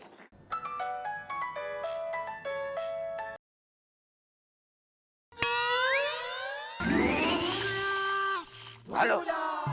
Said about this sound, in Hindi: भैया का फोन बज रहा।